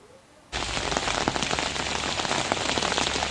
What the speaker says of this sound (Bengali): শুক্রবার সকাল থেকে জেলা জুড়ে বিক্ষিপ্তভাবে বজ্রবিদ্যুৎ সহকারে বৃষ্টি শুরু হয়